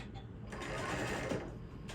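Sewing machine stitching tote bags, a steady continuous mechanical whir that runs at a constant close level throughout with slight fluctuations.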